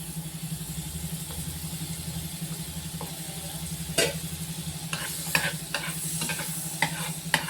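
An egg mixture stirred briskly in a bowl while a dosa griddle heats, with rhythmic close scraping strokes, a few sharp clinks, and a steady low hum underneath.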